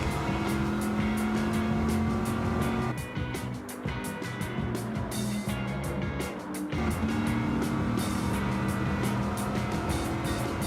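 A race car in Gran Turismo 7 heading into the pit stop: a loud, steady engine drone with a brief dip as it slows midway, then the engine noise returns, up close and continuous.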